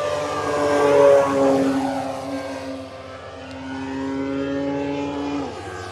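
An RC PT-17 Stearman model biplane, 1600mm span, flies past overhead outdoors on a spring day, its engine a steady buzzing drone that swells, fades slightly and holds, with pitch shifting as it passes.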